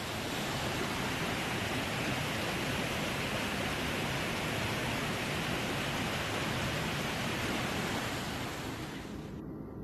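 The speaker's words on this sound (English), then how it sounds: "I hear the waterfalls, it's really loud" Loud, steady roar of a waterfall close by near Quito, a dense unbroken rush of falling water that fills the whole clip with no voices.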